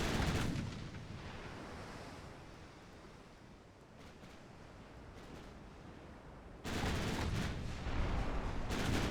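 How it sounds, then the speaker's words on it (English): Naval guns fire shells in the warship game Ultimate Admiral Dreadnoughts, heavy booming blasts opening and then returning loud after a stretch of rumbling sea-like wash, without voices. "Some of the spread on these shells is insane."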